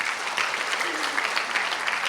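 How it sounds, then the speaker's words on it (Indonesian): A church congregation at a morning prayer service claps together, a brief, steady, moderately loud round of many hands. "Tepuk tangan buat Yesus."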